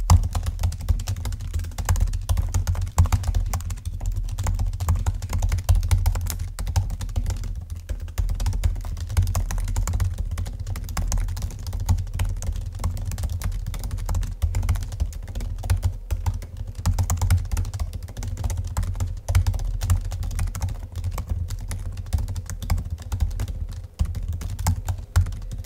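Rapid typing on the keyboard of an M1 MacBook Air: a steady, dense stream of soft key clicks that runs continuously for about 25 seconds, close to the microphone, with no talking.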